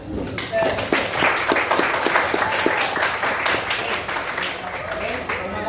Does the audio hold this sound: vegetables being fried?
no